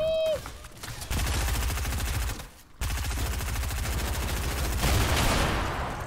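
Rapid automatic gunfire in a Fortnite match, long rattling bursts with a short pause midway, loud and steady, with a voice talking over it at times.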